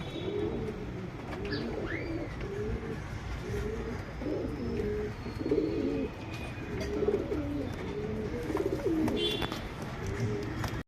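A pair of Katang pigeons coos in a repeated, soft, rhythmic series close by over a quiet background hiss, with a brief chirp or two from another bird.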